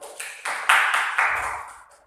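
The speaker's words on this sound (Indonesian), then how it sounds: "Berikan tepuk tangan nih" A small school class claps for a student during a biology lesson, a few short bursts of hand claps in quick succession, close and moderately loud, with no talk over them.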